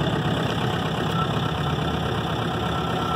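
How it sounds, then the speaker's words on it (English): An MP25 generator runs with a loud, continuous engine drone after starting up. The mid-to-low rumble holds steady with no pauses, and no one speaks over it. "So this machine goes through a little startup sequence for a few seconds, and then it'll rev up to power."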